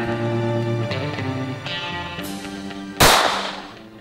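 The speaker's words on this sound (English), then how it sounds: "Before I shot my first ever gun, a .22." A single sharp crack from a .22 gun fired outdoors at a target of layered shirts stands out loud and close, ringing briefly and decaying over a sustained background tone.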